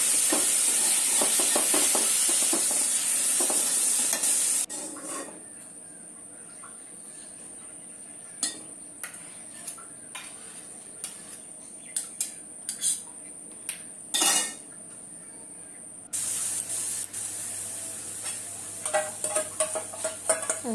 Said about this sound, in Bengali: শাকটা নামিয়ে আমি মুরগির মাংসটা তুলে দেবো।